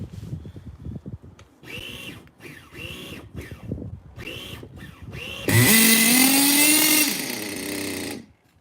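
A Picco 7-port nitro engine in a 1/12 scale OFNA CRT.5 truggy runs in short, choppy revving bursts, then holds a loud, high, sustained scream for a couple of seconds before cutting off.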